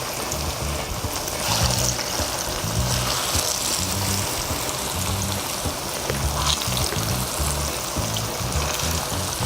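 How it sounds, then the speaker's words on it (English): A steady, even sizzle of plantains frying in a pan, with soft crackles and a low rumble running underneath throughout. "So while this is frying,"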